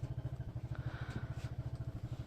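Kawasaki motorcycle engine under restoration, running just after ignition with a quick, even, chugging idle pulse, faint and steady.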